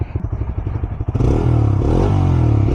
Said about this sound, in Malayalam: ഇതാണ് ഇതിൻ്റെ പെട്രോളിലുള്ള എക്സോസ്റ്റ് നോട്ട്